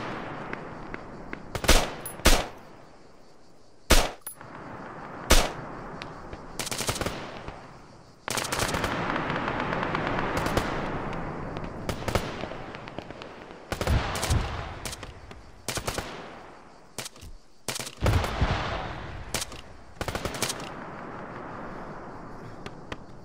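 Arma 3 combat gunfire: sharp single shots and short automatic bursts scattered irregularly, some loud and close, others farther off, with a stretch of sustained rattling fire in the middle.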